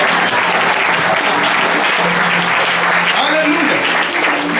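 Sustained loud applause from a congregation at a church service in Mauritius, dense clapping throughout with voices mixed in underneath.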